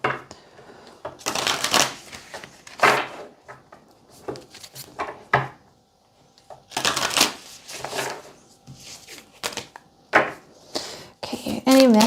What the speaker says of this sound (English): I'm going to get some oracle cards for you.